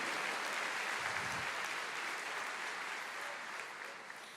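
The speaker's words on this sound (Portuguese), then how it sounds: "Aplauda mais" Church congregation applauding during a sermon, a dense sustained wash of clapping from many hands that holds steady and then tapers slightly at the end.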